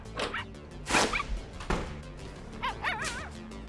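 Puppies bark, yip and whimper in short bursts, several sharp high yelps followed by wavering whines, fairly close and moderately loud.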